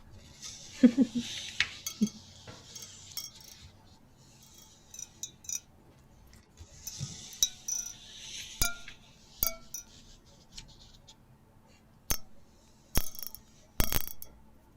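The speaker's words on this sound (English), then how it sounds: "It's really groovy whisk" A whisk being handled, intermittent metallic clinks, rattles and taps, close and crisp against a quiet room, with soft voices briefly present.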